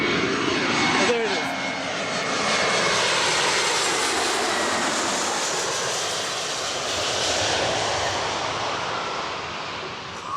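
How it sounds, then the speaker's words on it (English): A loud, steady roar of a jet airliner passing close overhead as it comes in to land, filling the whole clip with broadband engine noise that swells and holds. "I really want to see the plane landing closer."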